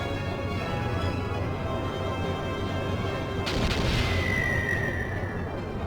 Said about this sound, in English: Let's see what kind of damage these here cannons can do.